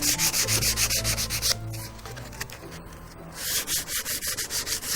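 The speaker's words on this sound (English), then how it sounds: "the next job is to remove all that excess and tidy up the joint. This is quite a blunt scraper" A blunt scraper drags along a glued joint on a plywood dinghy, lifting excess glue in a run of short rhythmic rasping strokes, close and fairly loud, with a quieter pause midway before the strokes resume.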